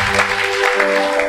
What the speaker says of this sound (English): Can you clap for God?